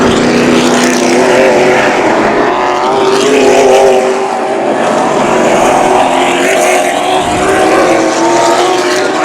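Late model race cars racing around Havasu 95 Speedway, a loud, continuous roar of several engines whose pitch rises and falls as they pass, with no talking heard.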